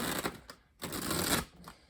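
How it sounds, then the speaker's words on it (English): A Disney Villains tarot deck is shuffled by hand, close and fairly soft riffling bursts with a brief pause between two rounds. "I just want to shuffle a little bit more on camera"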